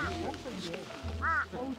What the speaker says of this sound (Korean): 한라산 까마귀다, 한라산 까마귀.